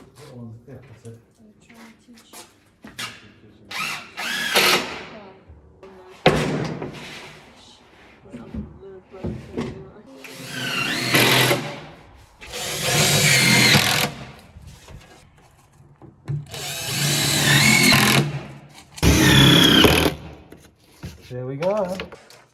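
Drill driving screws into cladding on a workshop wall, several short bursts of whirring spread through, with people talking between and over the bursts.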